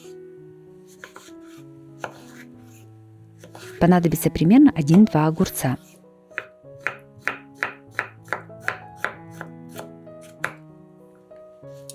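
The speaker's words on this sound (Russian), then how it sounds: "Соленый огурец нарезаем кубиками." A knife dices a pickled cucumber on a cutting board, about a dozen crisp evenly spaced strikes, close up, with a voice speaking before the chopping starts.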